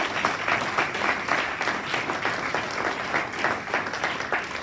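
A church congregation claps in a continuous, moderately loud round of applause with a steady rhythmic texture and no break.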